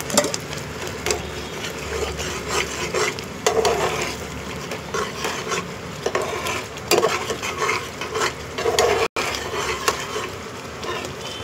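Oil and gravy for paneer tikka sizzling in a pan while being stirred with a utensil, giving loud, close, repeated scraping strokes over a continuous fry.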